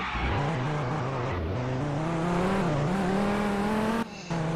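A car engine in the Roblox video game holds a steady, loud drone that dips briefly and then climbs again as the car brakes, with a short cut near the end before the engine tone resumes.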